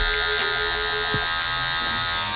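Electric hair clippers fitted with a 1.5 guard (4.5 mm) cut hair while blending the bulk of a self-trim, giving a steady buzzing drone with a short lower-pitched dip partway through, close up and without talk.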